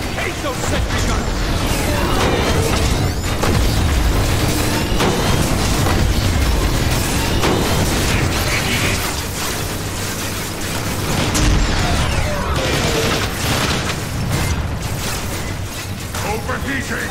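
Explosions and heavy weapon fire against sentry guns in the War for Cybertron video game, a dense, continuous loud barrage of blasts and mechanical clatter with game voices shouting over it.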